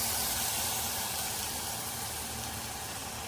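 Lemon juice hitting rice that is frying in a hot pan for a dill pulao, a steady loud sizzle and hiss that holds evenly and eases slightly toward the end.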